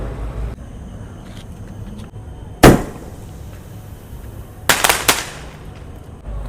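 Two sharp bangs from a seven-shot Diwali firecracker burst out against quiet background rumble, the second a quick cluster of cracks, loud and nearby.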